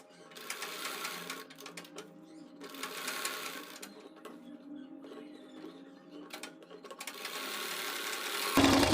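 A sewing machine stitches a suit neck along its buckram interfacing, running in steady bursts with brief pauses, close and fairly loud.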